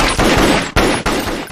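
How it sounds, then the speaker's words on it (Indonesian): Rapid gunshots ring out in a violent film scene: a loud, close burst of several sharp cracks in quick succession, with brief gaps between shots. "Bob menjadi marah dan langsung menembak Cyrus"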